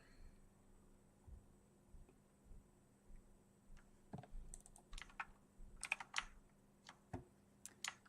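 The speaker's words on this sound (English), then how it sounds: "Oh, not the mechanical keyboard." Typing on a mechanical keyboard while coding, with irregular bursts of crisp, close keystrokes and scattered single clacks over a faint steady hum.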